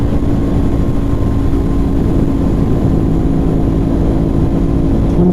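A 2024 Aprilia RS660 twin-cylinder motorcycle engine runs loud and steady, a constant close droning hum with a held tone and no distinct revs, alone without speech.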